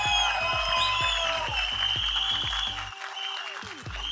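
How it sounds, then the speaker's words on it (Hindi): Audience applause at a film trailer launch event, a dense sustained clapping from a crowd that fades slightly toward the end, with stage music and voices faintly underneath. "डडली साहब के लिए एक बार जोरदार तालियां."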